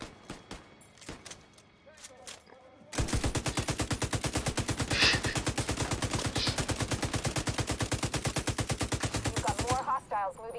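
Sustained rapid automatic gunfire in The Division 2, a dense run of evenly spaced shots lasting about seven seconds after a few scattered sounds, loud and continuous, with game effects around it.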